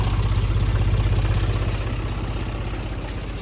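Lamborghini tractor engine idling steadily while driving a 400-litre sprayer pump in a vineyard, a low, even mechanical throb with regular pulsing that stays loud and close throughout, with no voices.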